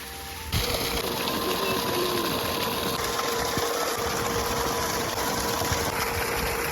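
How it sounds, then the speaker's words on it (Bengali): An electric water pump motor runs in a flooded paddy field, a steady close humming drone with rushing water that starts abruptly after a brief moment and then continues evenly without pause. "ধানের মাঠে এতটাই জল রয়েছে তাই মটর বসানো হয়েছে এইটি চলছে"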